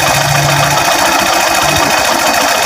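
A motorcycle engine with an air-screw carburetor idles at a moderate speed after tuning, producing a loud, close, steady chugging rattle with a rapid even rhythm throughout.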